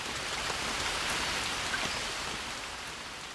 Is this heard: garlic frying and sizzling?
no